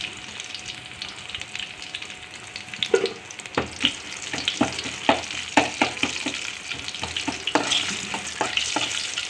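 Garlic tempering sizzles hard in hot oil for a sambar, a dense continuous frying hiss broken by sharp crackles and pops that grow busier and louder as it goes on, close by with no talking.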